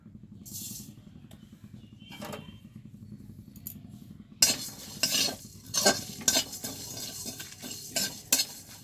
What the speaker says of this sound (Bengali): শুকনো খোলায় মশলাটা নাড়াচাড়া হয়ে গেছে